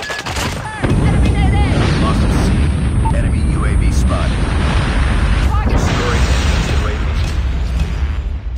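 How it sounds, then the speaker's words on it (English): In the mobile shooter game Call of Duty Mobile, a nuke goes off with a loud sudden boom, followed by continuous rumbling blasts and gunfire, while game announcer voices call out events. "Friendly nuke has been launched."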